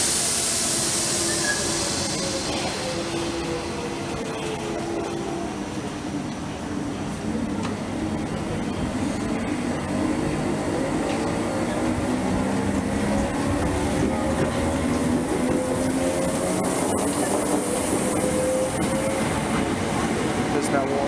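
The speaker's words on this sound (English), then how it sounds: "Train is ready to go." A Central Line train at a station pulls away, its motor whine rising in pitched tones and rail rumble holding steady and loud throughout, with hiss on top.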